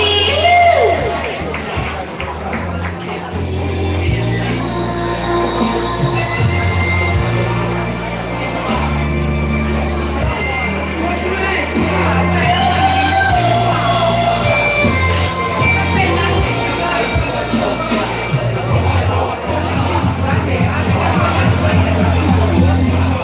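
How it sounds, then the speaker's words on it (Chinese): A live concert crowd cheers and shouts during a Hokkien pop performance, a continuous roar of voices and whoops over loud music with a singing voice. "掌声鼓励！"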